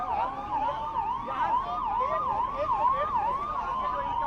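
Fire engine siren wailing at a fire in an electricity department office in Raipur, a loud, steady up-and-down wail that rises and falls repeatedly and fills the whole stretch with no talk over it.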